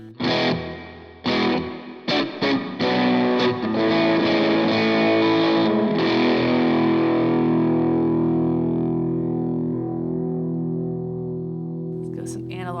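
An electric guitar plays through a Line 6 POD Express on a gritty distorted preset with hall reverb. A few choppy strummed chords lead into one long chord that rings out and slowly fades in a wide reverb tail.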